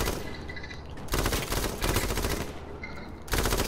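Automatic gunfire in the video game H1Z1 rattles in loud, rapid bursts, with three dense volleys separated by brief lulls and no talk over them.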